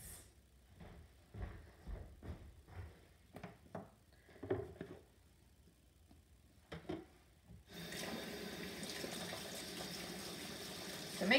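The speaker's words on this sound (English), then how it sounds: "we have to wash our hands." Hands are washed with soap and water after cracking eggs for scrambled eggs: scattered soft rubbing and splashing knocks come first, then a steady tap stream runs loudly for the last few seconds, with no talk.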